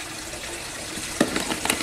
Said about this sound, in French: on arrose